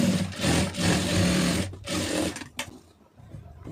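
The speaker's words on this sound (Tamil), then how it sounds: "இப்போ அதை அப்படியே மடக்கி ஒரு தையல் போட்டுருங்க." A sewing machine runs a stitch along a folded piping edge, a close, steady whirring burst that stops and restarts briefly before falling quiet.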